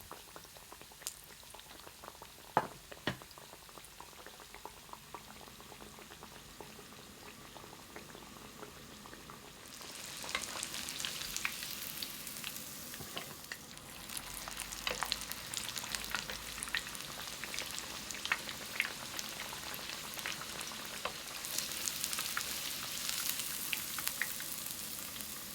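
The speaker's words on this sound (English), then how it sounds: "Fry each side for 30 seconds until they are golden brown." Beef katsu deep frying in oil heated to about 180 °C, a steady bubbling and crackling sizzle that swells louder and denser partway through, with no talking.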